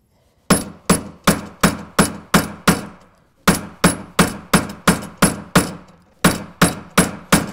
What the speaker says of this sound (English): Now the hammer comes down squarely on the piece